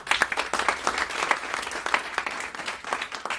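A church congregation applauds the Lord at a Transfiguration 2023 gathering, with dense, lively clapping from a crowd of people throughout and little talk.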